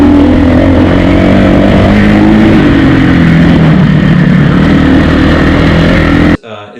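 A KTM 350 EXC-F dirt bike running lean after a fuel controller install, its engine droning loudly and steadily at high revs before cutting off abruptly near the end.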